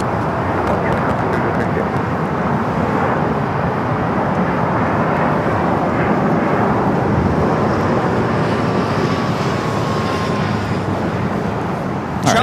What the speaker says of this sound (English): Challenger 300 taking off to Van Nuys